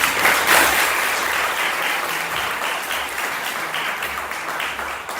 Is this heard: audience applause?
yes